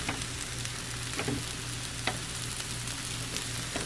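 Okra frying in a pan, a steady crackling sizzle with occasional louder pops, close up and alone.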